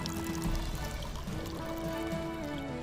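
Tap water pours steadily into a container for a thermal equilibrium experiment, a continuous close trickle and splash throughout with no talk.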